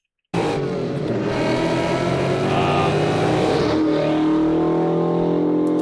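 An American muscle car engine starts abruptly and revs hard, a loud, close, throaty roar that holds steady and then shifts pitch as the revs change, with no talking over it.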